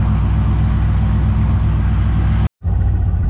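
A drag car engine warming up, idling steady and loud at close range with a rough, rumbling lope, then cutting out for a split second before catching and running again.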